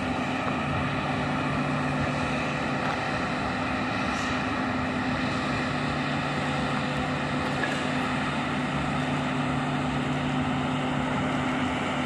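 Brazilian Air Force aircraft engine, on a training exercise in Mossoró, Brazil, runs up with a steady loud drone and strong tonal hum, holding constant throughout with no talk.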